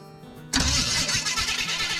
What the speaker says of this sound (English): The starter sounds a little bit loud to me, but I am hoping for the best.